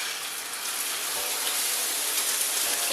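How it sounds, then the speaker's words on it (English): An egg sizzles in a hot, lightly oiled pan as it is scrambled for egg fried rice, giving a loud, steady, close hiss that lasts the whole time with no talking. "we're going to chuck that egg in, and we just want to like make scrambled eggs basically"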